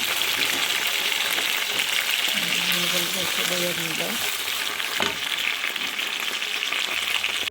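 Halved chicken pieces frying in a tablespoon of oil in a pan, giving a loud, steady, dense sizzle throughout, with a brief faint hum and a soft knock midway.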